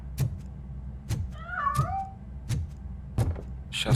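A single drawn-out cat meow rises and falls in Robocop Rogue City, heard amid heavy, regular game footsteps and thuds.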